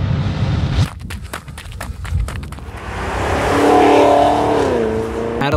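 A Cadillac CTS-V performance car drives past, its engine rising and revving loudly over several seconds with a sweeping pitch change, alongside a few sharp knocks near the start and some background sound.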